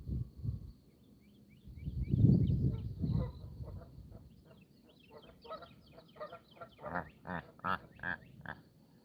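Geese honk outdoors, starting low and muffled and building into a run of louder, repeated calls from a flock nearby, with no talking.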